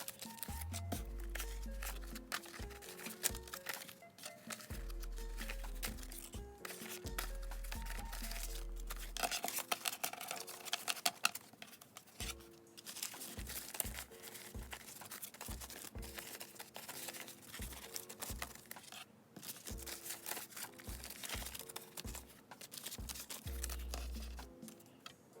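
Paper money bills handled and lined up for sorting into budget folders, giving steady crinkling, rustling and flicking over quiet music, close and moderately soft throughout.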